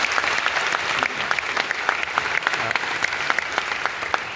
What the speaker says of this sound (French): Vous l'applaudissez maintenant, il en profite comme ça.